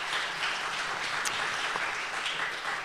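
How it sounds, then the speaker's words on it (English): An audience at an AI and healthcare panel applauds as the session closes, a dense, even wash of clapping that holds steady for a few seconds. "And a round of applause"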